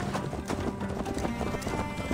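Horse hooves clip-clopping in Assassin's Creed Valhalla, a quick repeated rhythm of hoof strikes close by with a snort, faint talk underneath.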